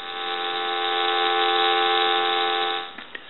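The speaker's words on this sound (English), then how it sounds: "We'll go ahead and give you some dial tone." A General Electric DECT 6.0 cordless telephone gives a steady, loud, continuous dial tone for about three seconds, ending with a few faint clicks.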